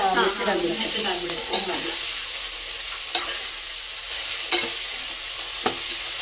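Chopped greens frying for sabbakki (sabudana) pulav crackle in a pan with a continuous soft sizzle. Sharp stirring clicks land every second or so, and a brief voice is heard at the start.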